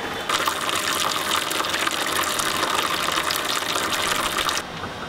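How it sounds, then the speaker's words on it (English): Hot water gushes steadily as a pump drives about 20 litres into a beer mash tun for all-grain brewing, a loud continuous rush that cuts off abruptly near the end. "I'm going to pump in about 20 litres"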